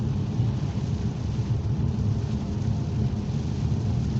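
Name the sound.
heavy rainstorm with thunder while driving in Cornwall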